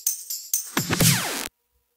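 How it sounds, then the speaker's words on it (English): A future bounce drum fill built in FL Studio: a few sharp hits followed by a dense, rising electronic sweep with gliding tones, loud and up front, ending abruptly into silence. "So I found the drum fill finally."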